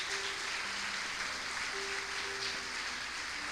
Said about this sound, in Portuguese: Mais um aplauso àquele que vive e reina para sempre.